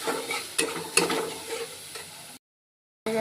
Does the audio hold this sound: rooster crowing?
no